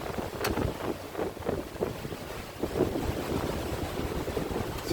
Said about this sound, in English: we've got 20 knots of breeze-ish